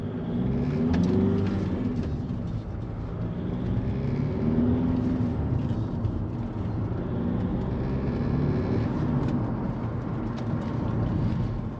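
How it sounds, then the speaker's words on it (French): A 2003 Audi A4 B6 TDI 130 hp diesel accelerates, giving a sustained engine drone and whir from inside the car with only a faint hint of turbo whistle. "au niveau des accélérations, comme on va pouvoir le constater, enfin peut-être, ça siffle un petit peu, mais c'est pas exagéré"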